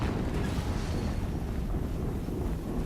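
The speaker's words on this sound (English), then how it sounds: "Another explosion." A low, rumbling explosion in the video game Horizon Zero Dawn, heard as a sustained deep roar with no sharp attack that stays fairly even for a few seconds.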